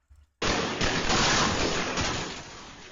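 Gunfire rings out in a residential area as a sudden burst of sharp cracks, then a dense, continuous roll of shots that fades slowly, heard from some distance after a brief quiet moment.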